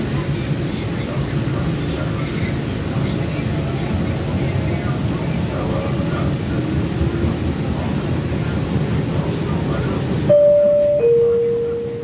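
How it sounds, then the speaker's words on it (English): An MBTA Green Line CAF Type 9 light rail train runs on the C Branch toward Cleveland Circle, giving a steady, even rumble and hiss of wheels and motors that continues throughout, ending with a brief chime-like tone. "The destination of this train is Cleveland Circle."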